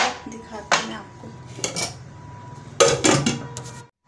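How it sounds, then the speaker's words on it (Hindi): Dishes, pots and steel utensils clattering as they are handled in a home kitchen, several sharp close metallic clinks and knocks in irregular bursts with quiet pauses between. "दूसरे साइड पर थोड़े बहुत बर्तन थे तो मुझे धोने थे"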